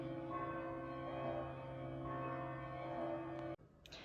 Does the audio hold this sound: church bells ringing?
yes